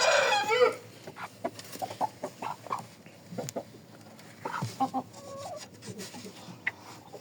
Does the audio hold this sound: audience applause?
no